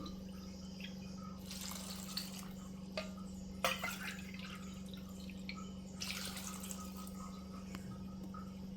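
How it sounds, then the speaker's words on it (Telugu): Water drips and splashes intermittently into a cooking pot for tomato dal over a steady low hum, with a few clinks along the way. "వాటర్ వేసుకుంటున్నామండి."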